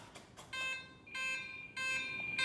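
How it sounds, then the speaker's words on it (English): Audible low-battery alarm from the smart battery of an E-flite Vans RV-7 1.1m RC plane, warning that the battery isn't charged, a set of repeated electronic beep tones in short bursts, fairly quiet and close with no talking. "We're getting a smart battery alarm. Battery not charged for flying, audible alarm."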